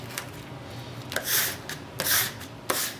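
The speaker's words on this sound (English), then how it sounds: "We just start from the middle and scrape it so that it's completely smooth" Three or four short, scratchy strokes of a scraper sweep across a vinyl decal in quick succession, close and moderately loud.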